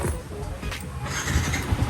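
A Yamaha Sniper 150 motorcycle engine starts up nearby, a rough broadband churn with low thumping pulses building toward the end of a brief moment.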